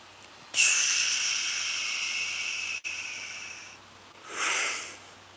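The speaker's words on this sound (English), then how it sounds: "Quick short in, long breaths out." Breathing exercise with quick short inhales and long exhales: a long, steady hissing breath out lasting a few seconds, then a brief pause and a shorter breath, close and clear with no talking.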